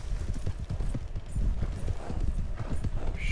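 Horse hooves clip-clop in a rapid, uneven rhythm inside the Red Dead Redemption 2 video game, close and fairly loud, with a faint whinny-like sound and game ambience.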